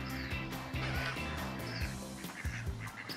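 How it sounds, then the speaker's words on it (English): A baby duck quacks repeatedly among a flock of ducks outdoors, short nasal calls over a busy background of other bird noise. "All right, so we got a little baby duck over here."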